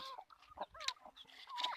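A crossbred fighting rooster chick clucks and chirps in quick, close, uneven bursts at night on a country chicken farm in a forest.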